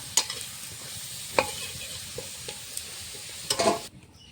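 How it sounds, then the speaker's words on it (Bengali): Soybean chunks frying in mustard oil in a wok, a soft steady sizzle broken by a few sharp spatula scrapes and clicks, close by and fairly quiet, ending abruptly. "কড়াইতে দিয়ে দিয়েছি সরষের তেল, সয়াবিন মেখে রাখা সয়াবিনগুলো ভেজে নেব।"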